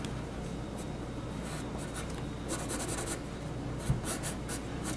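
Pencil sketching a cartoon kid on paper, with steady close scratchy strokes and short bursts of quicker scribbling as lines are darkened in. The strokes run alone, with no talking over them.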